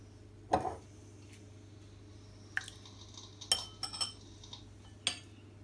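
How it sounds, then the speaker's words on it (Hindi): Metal spoon clinking against a glass as basil seeds (tukhmalanga) are spooned in for a falooda, a few sharp close taps and scrapes spread over several seconds in a quiet kitchen. "दो चमचे हम तुखमलंगा के डालते हैं"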